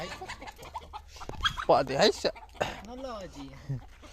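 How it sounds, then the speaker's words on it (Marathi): A hen clucks and squawks close by amid scattered speech and background noise, her calls rising briefly before settling into short clucks. "कोंबडी"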